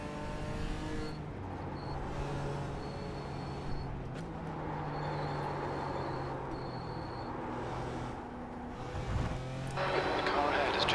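Mazda Miata race cars in the iRacing sim, engines droning steadily throughout with a close group of cars running together, a louder burst of engine noise near the end, under quiet talk.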